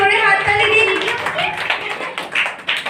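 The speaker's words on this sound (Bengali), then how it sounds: "সবাই একটু জোরে হাততালি দিয়ে দিন।" An audience claps for a drawing competition winner, with scattered, uneven hand claps and a speaking voice layered over the start of the clapping.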